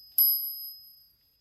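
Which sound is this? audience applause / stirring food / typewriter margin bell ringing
typewriter margin bell ringing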